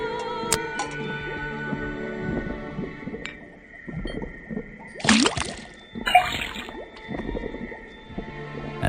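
A faucet in the Detective Grimoire game is tapped and releases a short gurgling gush of water into a cauldron, with soft drips and liquid squishes set against sustained tonal game music.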